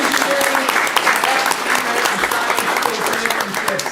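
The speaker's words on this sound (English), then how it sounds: "big round of applause for our engineering" Audience applause for high school engineering state champions at a board of education meeting, steady dense clapping throughout with faint voices mixed in.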